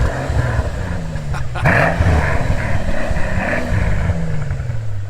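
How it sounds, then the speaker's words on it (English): A high-mileage Mercedes SL65 AMG with 147,000 miles, parked and revved against its soft rev limiter, its engine note climbing and falling in repeated close, loud sweeps over a steady low rumble. "It's got a soft rev limiter when you're in park, so you can't just wrap the thing out, but what a refined sound"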